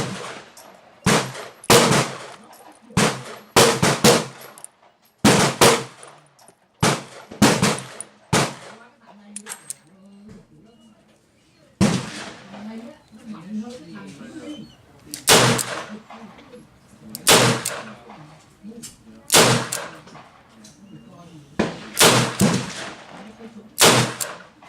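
A Rock Island Armory M206 revolver fires 158-grain rounds at a range. The sharp, loud reports come in irregular groups of several shots with short pauses between them, each followed by a brief echo.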